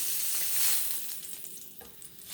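A scallop searing in a hot pan, a close, steady, hissing sizzle with a faint crackle throughout.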